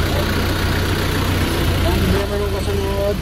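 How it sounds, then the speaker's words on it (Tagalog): Nissan Urvan van engine running steadily after a coolant and distilled water refill, a constant close idle hum with a faint whine near the end. "ayan na yung andar ng makina niya"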